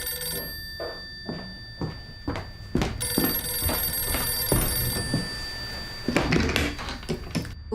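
An old telephone bell rings in several short bursts, loud and close, with brief gaps and a few thumps between rings, and no voices.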